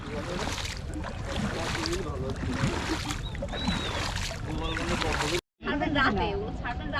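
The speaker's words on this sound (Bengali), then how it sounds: "আমরা এখন বোটে করে যাচ্ছি মায়াবী ঝর্ণা" A boat ride on water in Sylhet, heading toward a waterfall, gives a steady rushing wash of water and hull noise throughout, with people talking over it and a brief cutout before it resumes.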